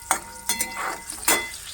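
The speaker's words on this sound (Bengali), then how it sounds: "তার জন্য আলুটা ভেজে নিচ্ছি লাল করে" Potato pieces fry in a pan for a red chicken masala, giving a steady close sizzle broken by a few sharper bursts as they are stirred or turned.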